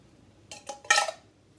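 Drained canned pears are tipped into a bowl of bread pudding mixture with raisins, giving a few quick clinks of metal and glass. A final brighter clatter is followed by quiet.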